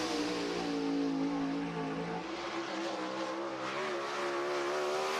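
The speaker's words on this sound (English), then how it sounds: "He's on the gas and on his time trial run from Mooresville, Indiana" A 410 sprint car screams through a time trial lap at Cherokee Speedway, its engine holding a loud, steady high-pitched drone with a shift in pitch midway, close and continuous with no talk.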